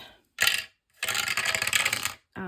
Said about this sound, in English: So we roll a normal dice,